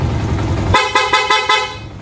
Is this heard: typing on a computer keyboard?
no